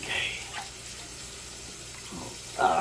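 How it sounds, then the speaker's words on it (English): Water drains noisily out of a kitchen sink after greens have soaked in cold water, a steady close rush of running water through the short stretch with brief louder splashes at the start and end. "now I'm going to let the water out"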